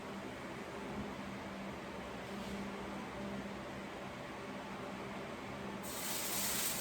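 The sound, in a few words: hot cast iron skillet sizzling, blackened catfish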